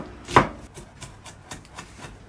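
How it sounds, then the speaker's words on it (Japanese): A knife finely chopping onion on a board: one sharp loud chop followed by a quick series of lighter, evenly spaced taps, close up with no voices. "玉ねぎをみじん切りに。"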